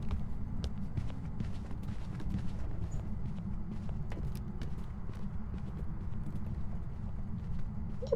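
Footsteps in the ghost-hunting video game Phasmophobia thud in a quick, steady run that resembles hooves clopping, low and continuous across several seconds.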